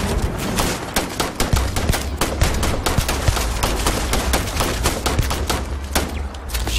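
Turret in the space game Starfield firing at the player, a dense, loud, continuous rattle of rapid gunshots with no pauses across the whole stretch.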